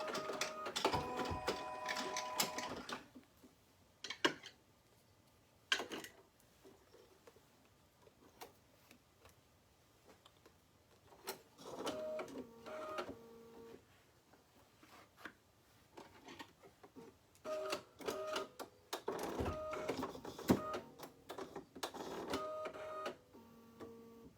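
An embroidery machine stitches red thread after a purple section, its rapid mechanical ticking coming in several loud bursts separated by quieter pauses.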